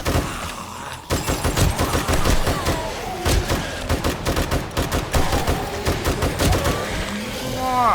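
Rapid gunfire in the video game 7 Days to Die, dense bursts of automatic shots and heavy thumps repeating loudly throughout, with a voice briefly heard underneath.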